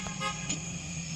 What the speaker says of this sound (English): Honk at 1:30 in the morning.